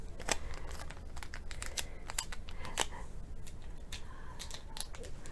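Scotch tape is pulled off the roll and pressed onto a vase for a pink wedding centerpiece, giving sharp crackling tears and papery rustles in close, rapid bursts with no talking.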